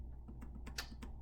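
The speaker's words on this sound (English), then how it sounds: "I'm so bad at typing" Typing on a computer keyboard while writing code, a short burst of soft, close key taps at an uneven pace over a low steady hum.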